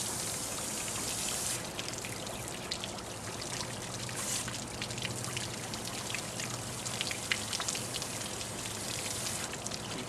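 Water spraying and spattering steadily from a pressurized leaking pipe while a wrap repair is applied, a continuous hissing, dribbling rush that holds close and loud for the whole stretch with no talk.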